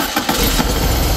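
VW engine fitted with FiTech fuel injection starting up, a loud close-up burst of cranking that catches and settles into a steady, even idle rumble without pause.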